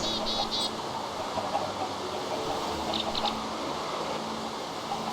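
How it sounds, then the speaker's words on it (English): Chickens in the Minecraft video game give short, soft clucks, two brief clusters over a steady background hum, with no talk. "Breed my chickens again."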